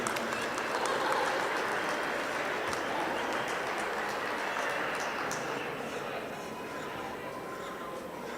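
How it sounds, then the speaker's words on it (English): Steady round of applause from an audience at a youth livestock poultry show, honoring the show judge; dense clapping holds for about eight seconds and tapers slightly toward the end, with faint bird sounds and murmuring in the background. "Let's give Dustin a round of applause for being here with us this morning."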